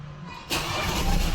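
A Ford Ranger 2.0 engine cranks and catches abruptly after a quiet start, then settles into a loud, steady running rumble close by.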